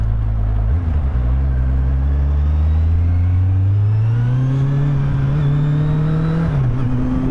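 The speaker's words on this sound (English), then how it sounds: "Thank you, South London Kawasaki, for letting me go out on this Kawasaki Z800" A 2016 Kawasaki Z800 motorcycle being ridden, its engine loud and close with a steady drone that climbs smoothly in pitch through acceleration, briefly dips with a gear change, then drops again near the end, heavy wind rush alongside.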